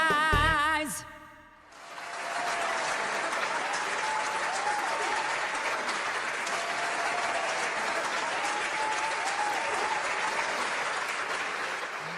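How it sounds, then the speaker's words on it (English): After a brief burst of music, loud steady audience applause takes over during a live show and continues for over ten seconds, a dense unbroken wash of clapping. "that applause was a little loud"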